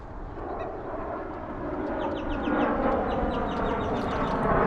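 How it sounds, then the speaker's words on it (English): A plane passes directly overhead, a broad low roar that swells slowly and steadily over a few seconds, heard outdoors with faint bird chirps on top and no talking. "there's a plane right over my head."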